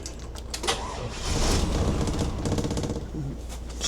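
A Workhorse vehicle's engine cranks and catches, then settles into a loud, steady, slightly rough running drone close by, with no talking over it.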